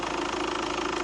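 A VW Passat B6 diesel with an EGR delete and a race pipe idles up close in a steady, rough, tractor-like drone, a continuous rumble with a faint knocking pulse.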